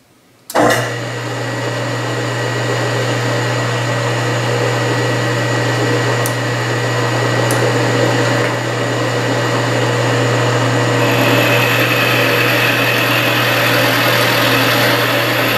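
A metal lathe starts up and runs through a 30-thousandths-inch knurling cut, a loud, steady motor hum with a constant drone that stays even to the end.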